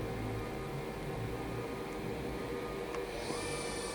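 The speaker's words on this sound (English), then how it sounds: "That's 500 on the sub spindle." A Hyundai-Kia SKT-21LMS CNC turning and milling center from 2007 runs its sub spindle at 500 rpm, a steady machine hum with a faint whine rising slightly toward the end.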